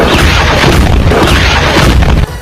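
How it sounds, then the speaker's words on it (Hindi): Heavy explosions boom at Ain al-Asad, a US airbase in Iraq, after a drone and missile attack: a loud, continuous roaring blast with rumbling low end that cuts off abruptly near the end. "इराक के उस एयरबेस के अंदर एक के बाद एक जोरदार धमाके होने लगे"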